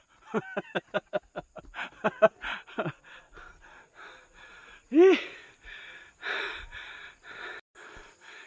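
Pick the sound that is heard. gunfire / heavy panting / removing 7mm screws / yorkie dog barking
heavy panting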